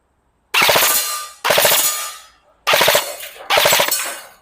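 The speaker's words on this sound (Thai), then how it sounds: "โอเคไหมตัวปืนยิงได้ปกตินะไม่มีปัญหา" A used E&C electric BB gun fires on full auto in four loud, close bursts of rapid mechanical rattling, each lasting about a second with short silences between.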